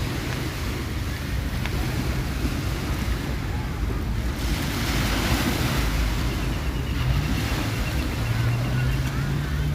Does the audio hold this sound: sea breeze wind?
yes